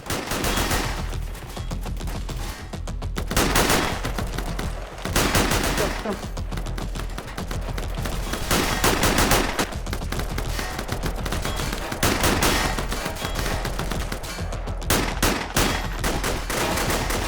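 Rapid, dense gunfire fills a siege fight in the video game Metro, with continuous overlapping automatic bursts and shots, loud and close, running without letup and barely a break.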